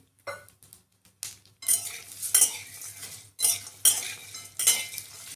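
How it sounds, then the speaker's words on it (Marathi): Spoon scraping and clinking against a pan as whole spices such as mace and green cardamom dry-roast in a little oil for onion-garlic masala, in irregular bursts of stirring with quiet gaps between, close and moderately loud. "कमी तेलात आपण व्यवस्थित मसाला भाजतोय."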